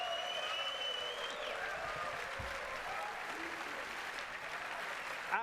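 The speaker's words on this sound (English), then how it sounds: "Can you give us a cheer?" A crowd of about 800 people at a Warhammer Fest event applauds and cheers in a steady, dense wash of clapping throughout, with no pause.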